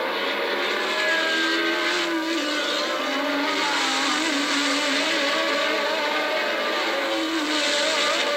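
1981 Formula 1 race cars accelerate at the Austrian Grand Prix in Spielberg, a steady high-pitched engine wail holding loud and continuous throughout, with no voices.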